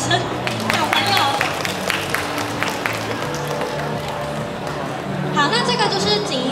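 A convention crowd at the PF34 anime event applauds during a Hanfu costume showcase: scattered clapping rises and fades beneath amplified speech, with hall chatter around it.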